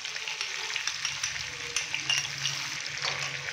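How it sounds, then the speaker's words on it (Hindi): Boiled mutton fries in a pot with crushed chilli, giving a steady, close hissing sizzle with light crackles and occasional scraping, and no voices. "5 से 7 मिनट के लिए मटन की भुनाई कर लेंगे"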